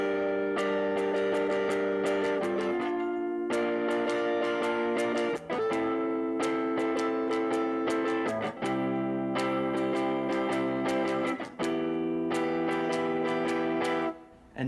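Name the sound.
guitar playing chord progression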